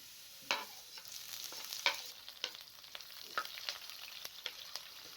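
Soft frying sizzle as green chilies fry with garlic in a pan, with occasional sharp pops and light stirring scrapes, fairly quiet and close.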